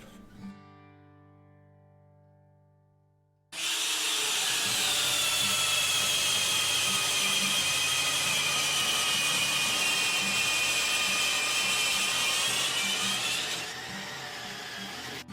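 A cordless drill with a 32 mm Irwin auger bit starts after a few seconds of quiet low hum and whines steadily at high speed for about ten seconds, loud and close, boring into wood, then slows.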